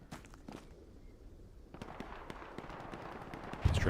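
An MG42 machine gun fires in a D-Day shooter game, a series of distant, sharp cracks in irregular bursts that thicken into rapid fire over battlefield ambience, ending with a louder close thump.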